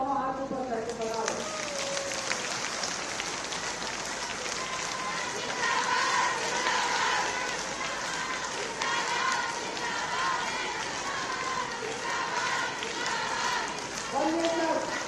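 A crowd applauds loudly at a political rally in Jaipur for Chief Minister Bhajanlal Sharma. Dense clapping and cheering go on without a break, with an amplified voice carrying over it.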